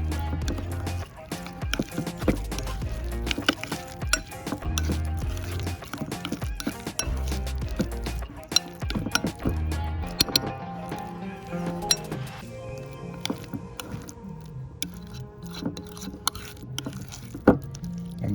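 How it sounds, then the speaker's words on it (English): Guacamole ingredients are stirred and mashed in a bowl in Cabarete, Dominican Republic, with steady clinking and knocking of a utensil against the bowl, close and fairly loud, slowing toward the end. "we're going to take all those ingredients and mix them up"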